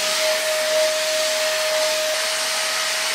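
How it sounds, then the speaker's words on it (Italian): A vacuum cleaner drones steadily at close range with a constant whine running through it, no voices present. "passiamo l'aspirapolvere insieme!"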